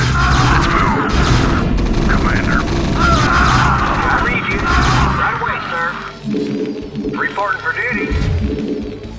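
Battle in the StarCraft video game with a Terran force, busy overlapping game effects of gunfire, booms and crashes, loud and continuous, with unit voice lines over it and a quieter patch near the end.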